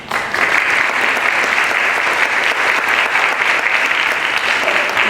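Seminar audience on social host liability breaks into sustained applause, a dense, loud, steady clapping that fills the room for several seconds without a break.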